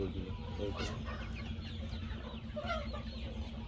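Native country chickens cluck at a local market, with several short clucks and murmurs close by over a continuous background hum.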